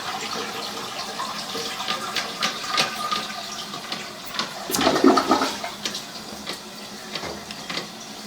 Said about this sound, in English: Okay, so the toilet is flushing, so obviously the line is functional.